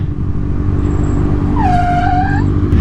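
A motorcycle riding on a cheap tire gives a steady engine and road rumble, with a rising then falling whining tone from the tire that holds for about a second late in the ride.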